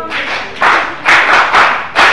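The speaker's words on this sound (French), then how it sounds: "On applaudit." An audience at a health forum claps in short loud bursts, dense and close, rising and dipping over a couple of seconds.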